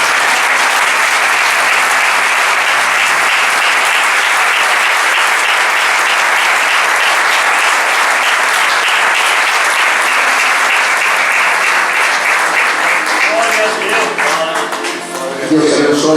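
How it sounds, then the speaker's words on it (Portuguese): Sustained, loud applause from a church congregation at a Portuguese-language ministerial meeting, dense steady clapping filling the room for about fifteen seconds before tapering off near the end, with a few voices mixed in. "As palmas vamos."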